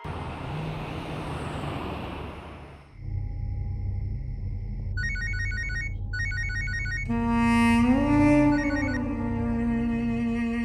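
A telephone rings in an Indian TV crime drama: two short bursts of bright, pulsing ringing at moderate volume come after a stretch of broadband noise and low hum, then give way to dramatic tonal music.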